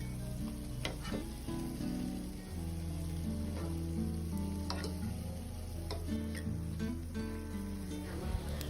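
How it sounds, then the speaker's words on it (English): Food sizzles steadily in a hot pan as it is turned so both sides fry, for an Iftar recipe. The close, dense crackle runs unbroken over a low tonal hum, with occasional sharper spits and no talk. "I kept turning it so that it will fry on both sides."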